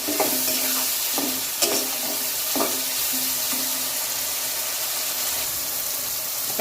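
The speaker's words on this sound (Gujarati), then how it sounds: "ટામેટા શેકાય છે" Tomatoes sauté with salt in a pan over a medium gas flame for a sprouted mung bean curry, giving a steady close sizzle. A spoon stirs and taps against the pan now and then.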